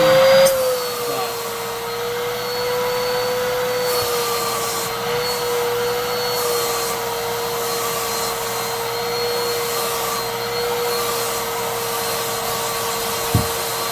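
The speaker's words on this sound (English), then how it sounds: "now that we just vacuumed up the contents of the Bissell bin" A Hoover vacuum cleaner runs steadily and loudly for the whole stretch, its motor holding an unbroken whine, with a brief bump near the start and a small knock close to the end.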